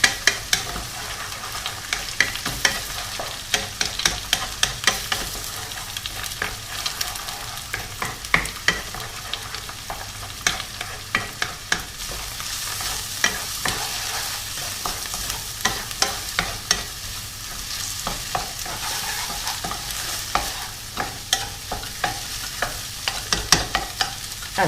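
Eggs cracked into a hot pan for simple fried rice are stirred while they sizzle, with a steady frying hiss and frequent sharp utensil scrapes and taps against the pan, close and continuous.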